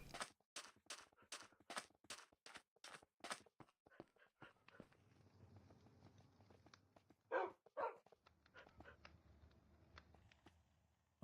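Dogs barking in Minecraft at nightfall: a run of about eight quick, evenly spaced yaps, followed by soft footsteps and a few scattered barks later on.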